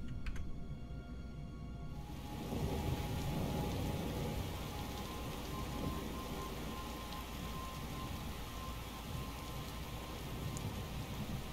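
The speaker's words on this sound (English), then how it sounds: "Wow, it's raining so hard, it's like practically nighttime." Heavy rain pours down in a video game, a dense, steady hiss of downpour that swells in after a quieter opening and continues unbroken, with no talking.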